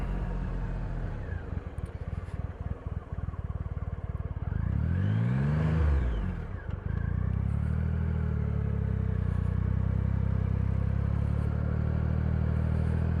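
A Triumph Rocket III motorcycle engine drones steadily, then the pitch sweeps down and back up as it decelerates under engine braking, before settling into a loud, even rumble.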